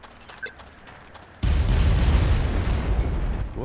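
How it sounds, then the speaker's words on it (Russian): An explosion in the Far Cry video game bursts suddenly into a loud, sustained roaring boom that rumbles on after a quieter lead-in. "Взрываем и валим."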